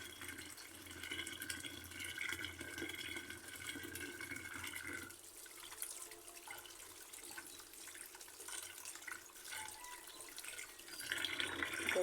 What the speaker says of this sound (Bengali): কাঁকড়ার মধ্যে প্রচুর মাটি থাকে তা ভালো করে ধুয়ে নিতে হয়